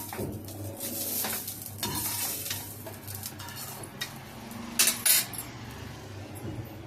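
Mint chutney ingredients sizzle and fry in hot oil in a pan as a utensil stirs and scrapes against the metal, with soft steady crackling and a few louder clanks near the end.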